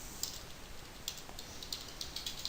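Faint, quiet keystrokes on a computer keyboard tap out in an irregular run of soft clicks against a low steady hiss, heard alone while HTML is entered.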